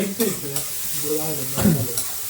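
Maggi noodles frying in a pan, a short burst of close sizzling with a couple of scraping stir strokes, a voice briefly audible underneath.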